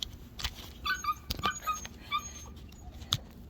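Puppies left inside a fence whimper and yip in thin, high repeated cries, fairly faint against outdoor background noise on a rural property.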